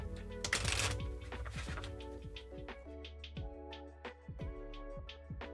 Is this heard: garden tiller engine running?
no